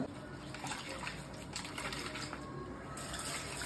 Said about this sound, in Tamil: ஃபிஷ் ஃப்ரைக்கு ஃபிஷ்ஷை வாஷ் பண்ணி எடுக்கணும்